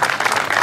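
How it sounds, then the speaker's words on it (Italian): An audience applauds at the podium ceremony of the first Pollino slalom motorsport event in Morano. The clapping is loud and close, with a busy wash of hand claps throughout. "Un applauso."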